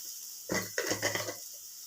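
Turmeric goes into a hot pan of sizzling oil in a home kitchen, giving a few brief bursts of sizzle and stirring scrapes close by, with no talking.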